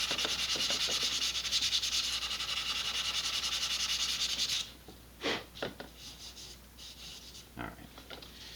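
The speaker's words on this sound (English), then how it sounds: "While it would be super exciting to watch me sand the other half of it" Hand sanding on a vintage Estes Sentinel model rocket, with steady close rubbing strokes for several seconds, then quieter, separate short scrapes.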